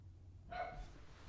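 A single short dog bark sounds nearby, faint and quick, against a quiet room background.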